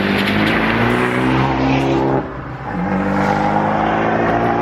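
The 1.4 litre turbocharged engine of an Abarth 124 Spider pulls hard on a mountain road in Corsica, loud and close, its drone dipping briefly mid-way as it shifts or lifts, then climbing again.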